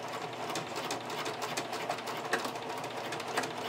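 A sewing machine runs steadily at close range, its fast needle chatter continuous as it top stitches a bikini strap, with faint small clicks on top.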